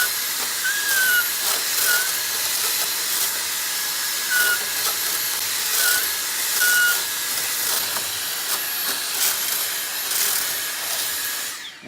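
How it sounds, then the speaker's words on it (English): A vacuum cleaner fitted with a multi-straw attachment runs inside a PC case, a steady close airy hiss with small rattles and squeaky scrapes as the nozzle moves around. "This is the hoover attachment that I've just bought"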